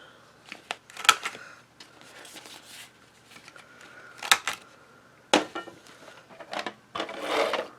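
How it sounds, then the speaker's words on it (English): A corner punch rounds the corners of quilted mats for an 8x8 handmade mini album, producing a series of sharp, close clicks and snaps with softer paper rustling between them in an irregular rhythm. "now that we got it all quilted, we punch the corners"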